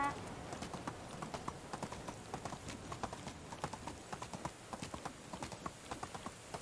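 Donkey hoofbeats from riding in the medieval video game Medieval Dynasty, a steady run of clip-clop steps, fairly close and distinct over a dense background of game ambience.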